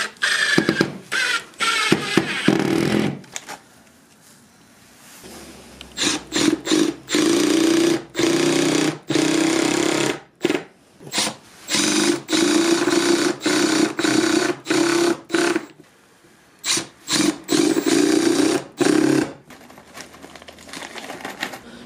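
A Milwaukee M12 Surge (FQID) hydraulic impact driver drives screws in a series of loud, close bursts of varying length, each a dense rattling whir, separated by short pauses and a quieter stretch near the start; no talking.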